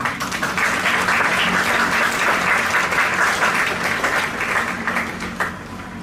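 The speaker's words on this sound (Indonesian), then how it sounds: "Tepuk tangan dulu." An audience at a school flag ceremony at SMA Negeri 1 Mimika applauds loudly, a dense, sustained wash of clapping from a large crowd that fades slightly at the end.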